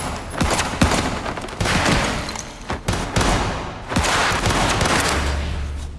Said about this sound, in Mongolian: За ингээд хамгийн сүүлд Фуюмура үлдсэнд мань хоёр тэрнтэй хаалц буудалцнаа.